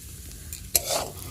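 Semolina roasting in oil in a pan, a low steady sizzle with one sharp scrape or clink of the spoon followed by a brief louder burst of frying.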